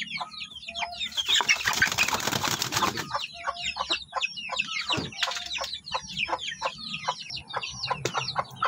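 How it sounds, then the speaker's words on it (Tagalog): Chickens cluck and chirp close by, with high peeping chicks throughout and a burst of wing flapping early on, from a hen and her chicks on a farm. "So dito yung ating mga sisiw na natira"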